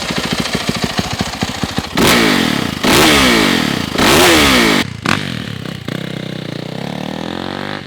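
A Yamaha YZ450F dirt bike engine running, first a rapid idling putter, then loud repeated revs that rise and fall before settling back to a rough, steady idle close by.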